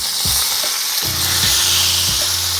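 Fish, walleye and perch, frying in very hot oil gives a steady, loud sizzling hiss with a few soft low thumps from the pan, and no talking.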